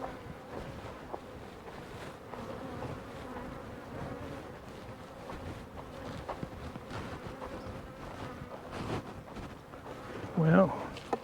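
A dense, steady drone of bees buzzing around a heavy double-box beehive super fills the air, with a brief bump or handling noise near the end.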